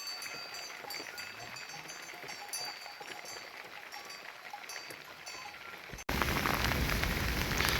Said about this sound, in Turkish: Biz köye girer girmez şiddetli bir yağmur geldi.